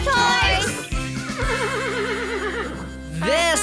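A draft horse in a children's farm video game lets out loud, close whinnies, with a long wavering neigh at the start and another at the end over a cartoonish music bed.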